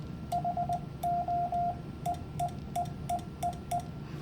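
A steady Morse code tone keyed on and off in short beeps: a quick burst, a few longer dashes sending "HO", then a run of evenly spaced short dits over faint background hiss.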